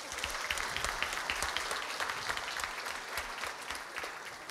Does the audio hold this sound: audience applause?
yes